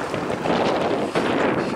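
Cold wind blows steadily across the microphone outdoors by a building in a freezing Finnish winter, a broad continuous rushing with gusts swelling near the start and again midway, no voices.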